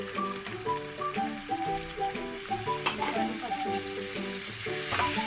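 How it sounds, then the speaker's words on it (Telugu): Onion pieces sizzling in hot oil for a gongura pasta curry, a continuous close frying hiss with light stirring over steady background music. "మరిగిన ఆయిల్లో ఉల్లిపాయ ముక్కలు వేసుకొని"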